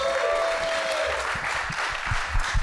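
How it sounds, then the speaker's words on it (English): Applause from a conference audience at ASOTU CON 2023, a steady dense clapping that fills the clip at close range, with a brief tonal whine early on. "Can we give these guys a huge round of applause?"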